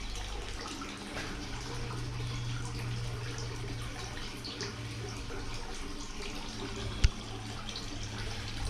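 Steady flowing spring water at the Andersonville Civil War prison site, a soft, even rush, a low hum underneath and one sharp click near the end.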